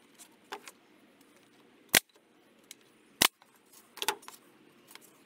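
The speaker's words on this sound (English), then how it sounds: "glue them up, and hit them with the nail gun" A nail gun fires into small glued wooden jewelry box pieces, giving three sharp, loud, isolated snaps spaced about a second apart, with quieter handling clicks and taps between them.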